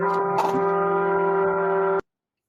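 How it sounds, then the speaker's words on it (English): A loud, steady train horn blast holds a single chord for about two seconds, then cuts off abruptly into silence. "I think Bruent just passed a train horn."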